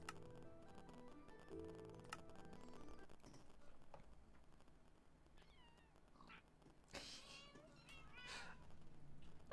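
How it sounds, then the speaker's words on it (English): Minecraft cat meows from the video game sound repeatedly, several short rising and falling mews alone over faint music and light ticking. "Oh, all the cat sounds."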